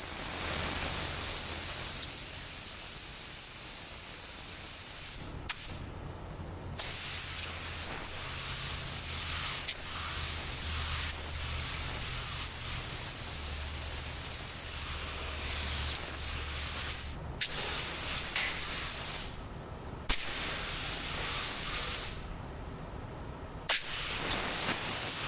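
Spray gun laying down a very light coat of thinned DIY paint, a steady loud hiss running almost continuously, broken by a few brief pauses between passes.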